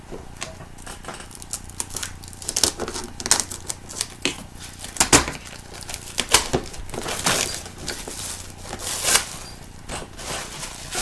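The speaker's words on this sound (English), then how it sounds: "I'm now going to open up with these scissors" Repeated sharp snipping and crinkling of stiff plastic packaging cut with scissors up close, irregular cuts scattered over a steady low background hum.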